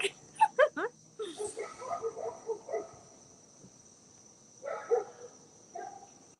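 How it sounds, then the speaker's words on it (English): A neighbor's dogs bark at night in short, uneven bursts from some distance, over a steady backdrop of crickets and insects. "my neighbor's crazy dogs are beginning to bark"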